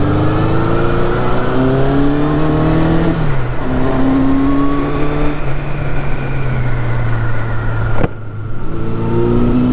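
A Honda CB750 Four motorcycle rides off with a loud, close four-cylinder engine drone that climbs in pitch through the gears, dipping briefly at each shift before pulling again.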